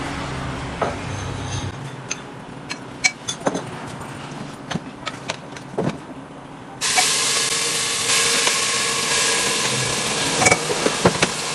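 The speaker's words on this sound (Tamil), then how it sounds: "இப்போ நான் ஒரு ஸ்பூன் எண்ணெய் ஊற்றிட்டு அப்புறம் சிக்கன் எல்லாம் போட்டு நல்லா வறுக்கணும்." Chicken frying in a spoonful of oil inside a heated pressure cooker for a spicy chicken dish; scattered utensil clinks and knocks come first, then a loud, steady sizzle starts partway through and holds to the end.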